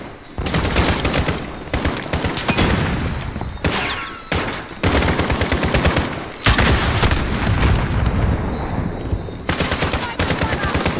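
Heavy gunfire in the video game Call of Duty Modern Warfare during a fight to take out a sniper: loud, dense volleys of rapid shots in long bursts, broken by brief gaps, with no talking.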